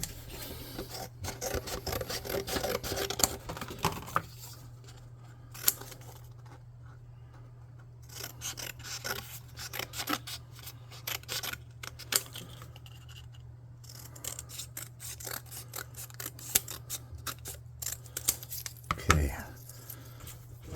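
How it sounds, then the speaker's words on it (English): Close scissors snipping and rasping through thin cereal box cardboard in repeated uneven cuts, with a low steady hum underneath and occasional handling noise. "I'm going to get a piece of cereal box and some scissors."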